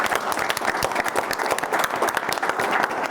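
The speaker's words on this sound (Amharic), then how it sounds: "አንድ ጊዜ ሞቅ ባለ ጭብጨባ ምስጋናችንን እናሳያቸዋለን" An audience claps warmly with dense, steady applause that fills the whole stretch with no pause.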